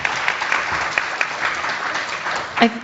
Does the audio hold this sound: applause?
yes